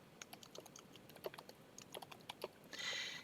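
Quiet clicking of keys on a computer keyboard while text is typed into a document, an irregular patter of close, light taps ending in a short, slightly louder burst, with no talking.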